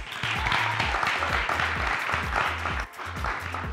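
Broad, continuous audience applause at the GENIE MILENYAL 2022 event rolls on over a thumping, repetitive bass music loop, with the clapping dipping briefly near the end.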